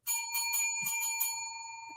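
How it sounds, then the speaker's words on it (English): A bicycle-style bell rings close and loud, with several quick bright strikes followed by a long, clear, ringing decay. "I really love my bell."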